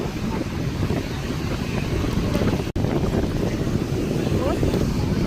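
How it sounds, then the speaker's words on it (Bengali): Strong wind buffets the microphone over a steady roar of surf at Shankarpur beach, with a brief dropout midway and a constant rushing texture throughout. "এখানে প্রচুর ঢেউ আর প্রচুর হাওয়া।"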